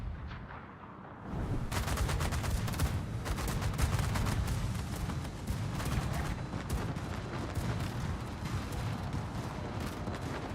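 Naval gunfire in World of Warships: after a brief quieter start, a dense, sustained roar of rapid cannon blasts and explosions fills the scene, loud and continuous, with no talking.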